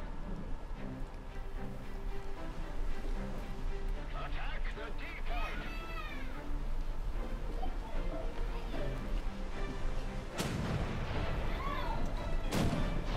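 Pirate ship cannons firing in the video game War Thunder's April Fools mode: muffled booms under a steady roar of wind and sea, with two heavy blasts near the end and voices talking throughout.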